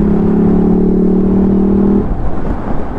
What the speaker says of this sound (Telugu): టైర్ నాయిస్ వచ్చేస్తుంది